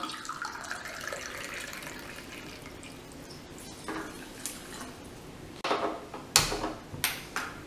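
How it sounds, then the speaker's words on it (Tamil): Water is poured from a cup onto sugar in a cooking pot for Mysore pak, a faint trickle followed by a few louder splashing pours near the end. "ஒரு கப்பு தண்ணி விட்டுக்கலாம்"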